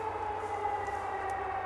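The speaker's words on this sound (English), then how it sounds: "It's a fire truck." A fire truck siren sounds nearby as a steady, sustained wail held at constant loudness, with no speech over it.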